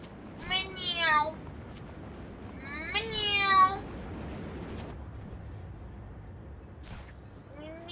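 A young person's voice imitates a cat, giving two drawn-out meows a couple of seconds apart and the start of a third, during Just Cause 3 gameplay, over a steady low background hum.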